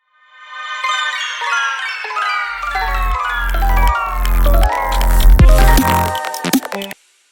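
A bright synth intro sweeps downward in pitch, with layered tones falling over several seconds and low pulses entering partway, ending abruptly after about seven seconds.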